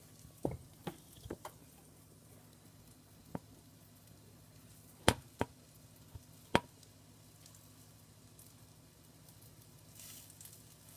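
Beans sizzle quietly as they fry in a pan, a soft continuous crackle with a few sharp pops and taps scattered throughout, no talking.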